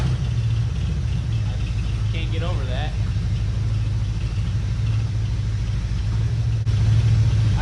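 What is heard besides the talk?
old car engine running with exhaust leak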